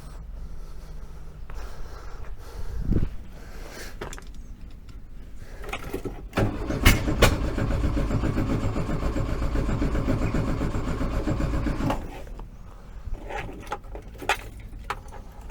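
A rebuilt 1915cc VW Beetle 1303S engine cranks on its first run with timing set well off, with a short thump early on and a steady loud running stretch in the middle before it drops away and a few sharp knocks follow.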